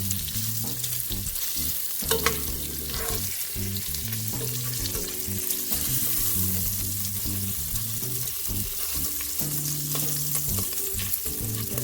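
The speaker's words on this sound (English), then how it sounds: "So the bacon's frying up nicely." Steady, close sizzling of bacon and salt pork frying in a pan, with occasional pops and spatters throughout and no talking.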